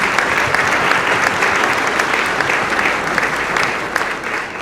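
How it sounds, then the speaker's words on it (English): A concert audience gives a round of applause at a performance, dense sustained clapping from a large crowd filling the whole stretch at an even level, tapering slightly at the end. "let's give him a round of applause"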